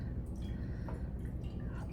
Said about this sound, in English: I'm just pouring